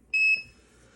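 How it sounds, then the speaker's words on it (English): An Arduino project's buzzer, part of an ultrasonic distance sensor circuit with colored LEDs, gives one short bright electronic beep that stops abruptly, leaving a faint ring and quiet background. "Right there, the buzzer sound."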